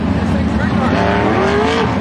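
Sprint cars trailing the ASCS Northwest pace truck at Southern Oregon Speedway, engines droning loudly with a rising whine as the field rolls past under an announcer's voice.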